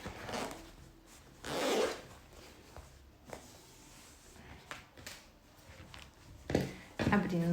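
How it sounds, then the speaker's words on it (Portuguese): A zipper on a sewn fabric pencil case being pulled open in a few short rasping strokes, close and fairly quiet, with soft handling rustles between them. "Abrindo o zíper"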